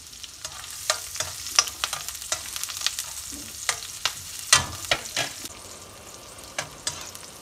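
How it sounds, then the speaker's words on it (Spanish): Onion and garlic frying in a little hot oil for a red chile de árbol salsa, a soft steady sizzle punctuated by frequent sharp clicks and scrapes of a utensil stirring the pan. "Pongo la cebolla y el ajo para que se vaya enfriando. Le muevo un poquito."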